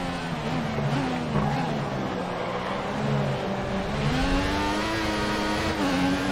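An F1 race car in the F1 2014 video game accelerates around the Bahrain circuit, its high-pitched engine whine rising and falling steadily through gear changes, loud and continuous.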